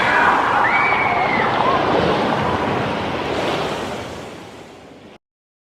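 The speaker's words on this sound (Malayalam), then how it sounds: "വെള്ളം അവരെ മൂടട്ടെ." A stage sound effect of the sea rushing in to cover people, performed in a parish-day biblical play: a continuous loud surging wash of surf that swells, then gradually fades away before cutting out.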